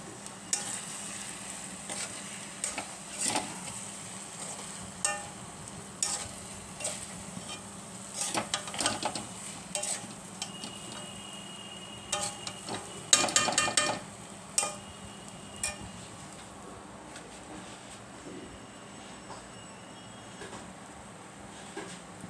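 Rice is stirred in a cooking pot for potato-tomato pulao, with repeated scraping and clinking strokes over a soft sizzle, loudest in a burst around the middle.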